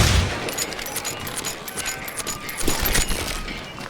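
Sustained gunfire in the Western shooter Call of Juarez: Gunslinger, with a dense spread of rapid, overlapping shots and ricochet-like crackles that continues loudly through the whole stretch, and no one speaking.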